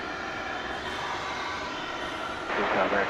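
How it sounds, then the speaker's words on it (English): An American Airlines jet arriving from Des Moines, Iowa, droning steadily as a broad, constant engine roar at moderate distance; the roar swells louder near the end as the aircraft comes closer. "We have an aircraft about to arrive from Des Moines, Iowa"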